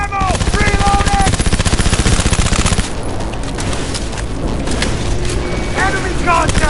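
Rapid automatic gunfire in the Cyberpunk video game, a dense burst of fast rattling shots for about three seconds, then a rumbling pause with a few scattered shots and another burst near the end, under voices.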